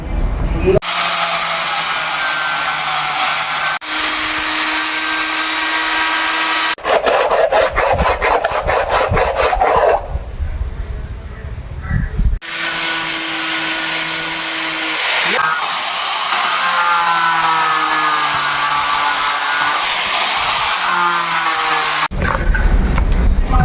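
Power tool cutting pieces of coconut shell for a craft project, a loud continuous whining, rasping grind that runs in long bursts with brief pauses and shifts in pitch as the blade bites into the shell.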